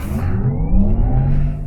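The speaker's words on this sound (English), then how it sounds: "You hear like an engine whine sound." A 2020 Porsche Taycan 4S electric car accelerating from a standstill with a rising electric motor whine over a low road rumble, steady and close, no voices.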